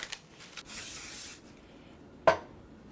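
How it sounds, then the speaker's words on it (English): Cooking oil sprays onto a pan in a short, soft hiss lasting under a second, followed by a small clatter, with no talking. "I think we should oil the bottom. Oil the pan."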